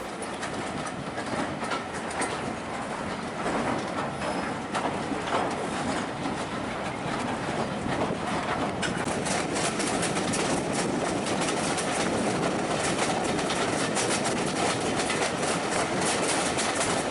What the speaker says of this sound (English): trains cross the old A1 road and the River Nene